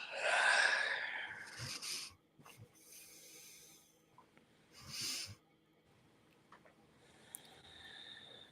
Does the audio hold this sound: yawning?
yes